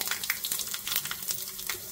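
Fenugreek seeds, cumin and asafoetida crackle steadily in hot oil for a tempering, a dense, even hiss close at hand with no voices.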